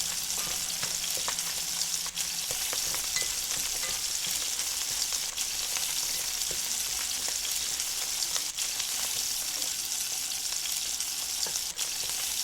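Onions with parsley and garlic frying in a pan, a steady dense sizzle held close throughout with a few faint clicks of stirring, no voices.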